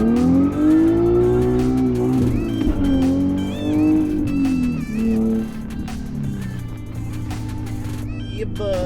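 An Infiniti G37 engine being revved during warm-up, its pitch climbing and falling through several repeated revs, close and loud, with a steady idle underneath.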